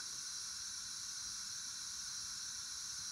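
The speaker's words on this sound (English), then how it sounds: "When stationary, it will emit some typical sounds of a steam locomotive when parked." A parked steam locomotive gives off a steady, faint hiss of escaping steam, an even continuous sound effect with no other sounds over it.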